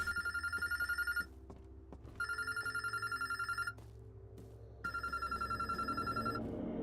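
An old-style telephone bell rings inside the Unknown Fate video game in three long bursts with pauses between them, loud and clear over a low hum, with no voices.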